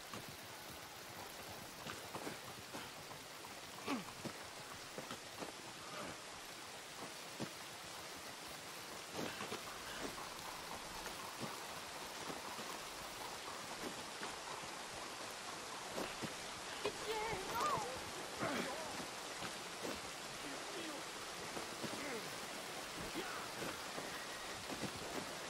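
Rain in the video game Red Dead Redemption 2 falls as a soft, continuous hiss with scattered drop patters and faint crackles, steady and fairly quiet throughout.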